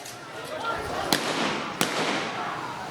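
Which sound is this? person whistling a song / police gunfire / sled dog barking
police gunfire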